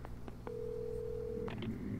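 A telephone in the video game Alan Wake sounds quietly: a few soft clicks, then a steady electronic tone held for about a second, followed by faint beeps.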